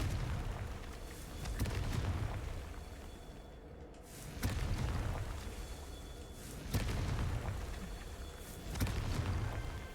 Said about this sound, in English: you're going to destroy these highlighted statues with Confringo. Confringo!